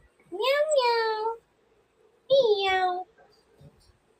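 A pet cat named Coco meows twice, close and clear, each call a drawn-out rising-falling cry about a second long with a short pause between, and faint room sounds in the gap.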